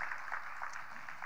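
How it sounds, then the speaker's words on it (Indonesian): Congregation applause during a church sermon, steady and fairly quiet across the short stretch, sounding distant, with no clear speech on top. "Beri tepuk tangan yuk buat Tuhan kita Yesus Kristus."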